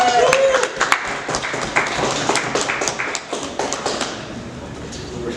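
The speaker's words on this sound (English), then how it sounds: "give me a round of applause for Ray Ford" Scattered applause and clapping from an audience greeting a performer, uneven bursts of claps that thin out over a few seconds, with voices mixed in.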